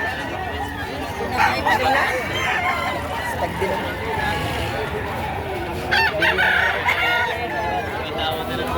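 A rooster crows loudly over clucking chickens and a busy background of people chattering nearby at a chicken market in Batangas.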